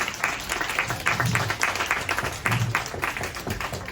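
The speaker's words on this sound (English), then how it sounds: "Let's give a big round of applause and bring them up here if we can" Live audience at an Armed Forces event claps in a lively round of applause for soldiers walking on stage, with dense overlapping hand claps and a few shouts, fairly close and steady throughout.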